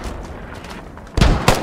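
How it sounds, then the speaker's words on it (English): An RPG fired at players in the video game Squad: two loud, close booming blasts in quick succession near the end of a brief stretch of rumbling battlefield noise. "someone just shooting RPG at us?"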